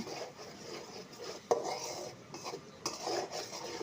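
Spice paste fried and stirred in a pan for a small river hilsa fish curry, a quiet scraping of a spatula against the metal with a couple of sharp clinks and a faint background hiss.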